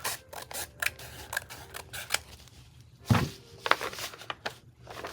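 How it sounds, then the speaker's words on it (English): Scissors snip through paper beside an envelope during junk journal crafting, with quiet, intermittent cuts in irregular bursts and no talking. "I gotta make sure I don't cut that envelope."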